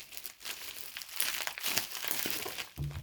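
Crinkly plastic bubble wrap rustling and crackling up close while airsoft replacement parts for an Army TTI Sand Viper Hi-capa are unpacked, a steady busy crumpling texture that swells and eases over a few seconds.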